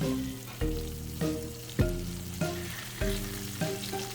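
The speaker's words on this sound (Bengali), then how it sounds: "এই ইলিশ মাছ ভাজা হচ্ছে।" Hilsa fish fries in oil, heard close up as a steady crackling sizzle marked by a series of sharp clunks and scrapes from a turner or pan every half second or so, with no talk.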